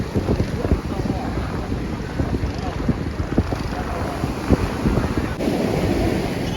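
Surf washing onto the beach at Pondicherry, a broad steady wash with wind buffeting the microphone, soft irregular bursts of noise rising and falling over several seconds.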